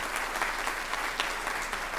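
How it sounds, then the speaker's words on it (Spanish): Church congregation applauding together, a steady dense clapping from many hands filling the room without a break. "Si vamos a aplaudir todos juntos"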